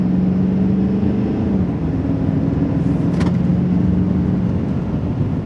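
A Chevrolet 3500 Duramax L5P diesel heavy-duty pickup cruising on the road, with a steady low engine drone and road rumble heard from inside the cab, continuous and fairly loud, with no talking.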